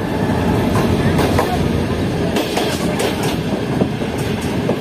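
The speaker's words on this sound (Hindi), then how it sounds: "और डिग रोड से चलने के बाद ट्रेन ने फौरन हिट कर दिया इसको।" A train runs near Dig Road junction station with a loud, steady rumble and clacking of wheels over the rails, close and continuous, while faint voices sit under the noise.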